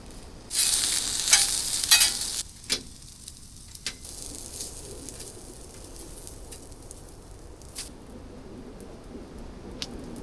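Food sizzles and fries in a lightweight pan at a winter camp, a steady crackle that swells loudly at first and then settles into a quieter background fry with occasional ticks.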